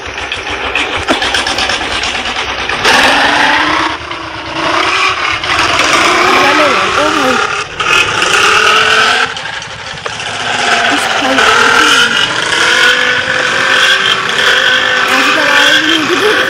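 Bullet motorcycle engine in a vehicle showroom video game, a steady loud engine drone with rising and falling revving throughout, under brief talk.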